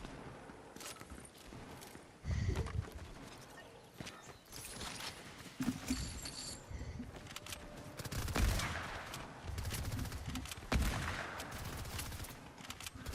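Gunfire from a Fortnite match crackles in scattered bursts and single shots, mixed with footsteps and game noise, moderately loud throughout.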